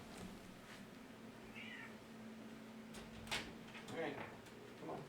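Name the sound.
cat meowing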